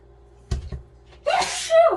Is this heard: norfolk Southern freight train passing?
no